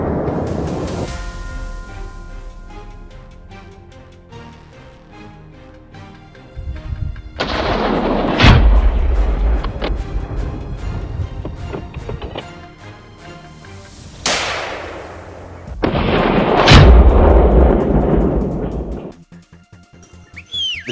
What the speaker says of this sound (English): I lowered my gun and fired